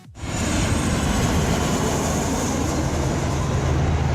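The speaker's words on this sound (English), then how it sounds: "There is a plane coming in right now though." An airplane coming in to land at LAX roars up abruptly and holds a loud, sustained, broad rumbling whoosh throughout, with no voices over it.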